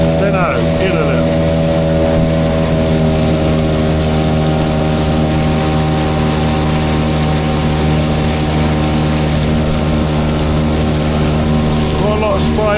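A Boatworld Cruiser 380 tunnel-hull inflatable boat runs under its outboard engine, throwing a lot of spray. The engine holds a loud, steady droning hum, with rushing water mixed in throughout.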